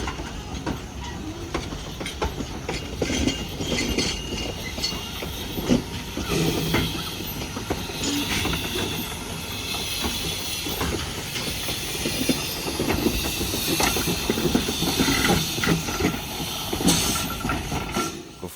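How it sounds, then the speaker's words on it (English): Steady train noise from the Bridgton and Saco No. 7, a historic 2-foot narrow-gauge steam locomotive hauling tourists on the Maine coast, with broad hissing and faint clickety-clack running continuously at moderate loudness, no talking. "being pulled by either a diesel or this historic steam locomotive"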